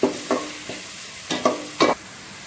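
Small onion paste sautéing in hot oil for mushroom biryani, a soft sizzle broken by several sharp scraping stirs of a spoon in the pan, close and without voices.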